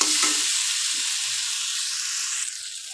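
Fish curry with grated ginger and ground cumin sizzles in a pan while being stirred, giving a close, bright continuous hiss with a few faint stirring scrapes.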